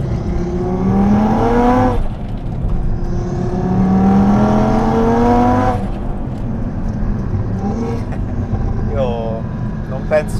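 An Audi TT RS tuned to 600 hp, running an ethanol map, pulls hard in third gear, its engine note climbing steadily in loud, sustained rising sweeps with a brief shift between them.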